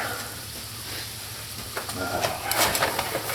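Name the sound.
salmon cakes frying in a pan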